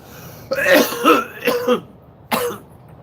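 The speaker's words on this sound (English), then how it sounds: "that would stop the coughing" A man coughs and clears his throat in several harsh, close bursts, with a pause before a final rasping cough, and no talk.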